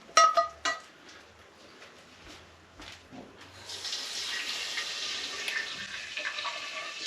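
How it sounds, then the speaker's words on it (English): A sticky frying pan coated in hoisin sauce is rinsed under a running tap. A few soft knocks and clatters come first, then a steady rush of water takes over for the second half. "Let's go rinse the pan out."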